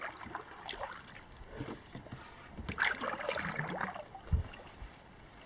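Canoe paddling on a lake in the evening during a solo Boundary Waters trip: soft intermittent paddle strokes and water swishes, close by, with light wind noise and no talking.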